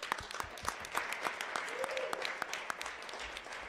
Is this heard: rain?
no